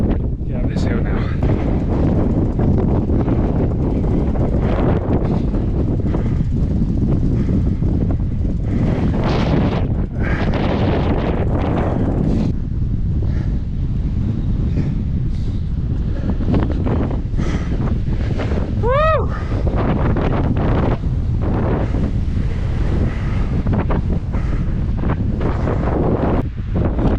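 Strong, cold headwind batters the microphone while bikepacking downhill on Scotland's Capital Trail, a loud, constant roar of gusts that never lets up.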